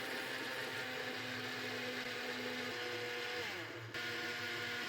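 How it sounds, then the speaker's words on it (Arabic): Electric blender whirring as it mixes eggs, sugar and oil for an apple cake batter, a steady loud motor hum with a brief dip in pitch near the end before resuming. "غادي نبدا نزيد الزيت وغادي نبدا نخلط."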